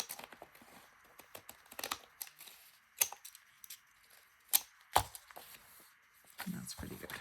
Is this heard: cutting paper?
yes